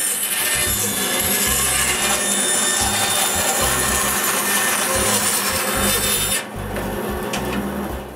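Continuous rasping of a saw cutting small wooden tongues for workshop window frames, a rough steady grind with rhythmic strokes that eases off near the end.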